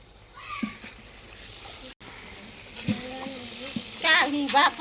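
Ariselu rice sweets fry in hot oil, a steady soft sizzle with occasional bubbling bursts and stirring, while voices talk over it.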